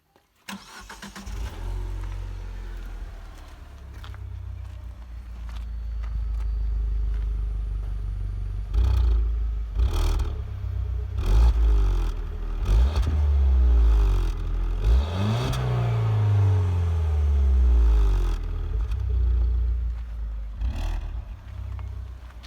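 A Peugeot 208 turbocharged four-cylinder car engine starts and then revs repeatedly, rising and falling in pitch, with a raspy, sporty exhaust note. It sounds loud and close.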